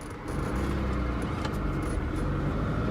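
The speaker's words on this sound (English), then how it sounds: "I had a new muffler installed on this, and I kind of went the more raspy route, and I absolutely love it." A European Lancia Flavia car with a new raspy muffler pulling away, heard as a steady, close engine drone and exhaust rumble that rises as it drives off, with no talking.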